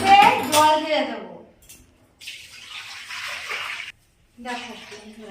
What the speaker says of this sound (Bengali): এবারে আমি কড়াইতে জল দিয়ে দেবো।